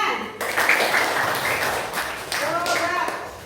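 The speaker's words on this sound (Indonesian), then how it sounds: "Tepuk tangan." Children in a classroom break into loud, dense applause that starts abruptly and carries on for about three seconds, with a voice rising briefly near the end.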